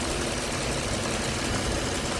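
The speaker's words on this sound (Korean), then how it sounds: "19만 킬로대에 주행한 차량 엔진 사운드 한번 들어보시기 바랍니다." A 2005 car's 3.3-litre gasoline six-cylinder engine with about 190,000 km on it runs steadily, a loud continuous close rumble with no talk.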